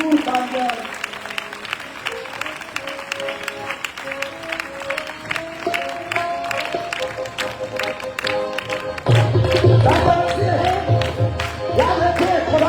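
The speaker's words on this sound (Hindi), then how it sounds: "आपकी भरपूर तालियां" An audience at a Christian gathering applauds to welcome a pastor, a dense, steady wash of clapping that swells louder partway through, with music and a voice running beneath it.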